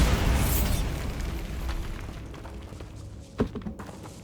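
A Bombarda spell blasts in Hogwarts Legacy inside a tomb, opening with a loud, broad boom that rolls away over a couple of seconds, followed later by a few dull thuds.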